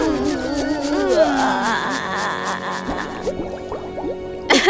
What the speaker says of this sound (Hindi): नहीं बंटी, इतना सारा पानी नहीं।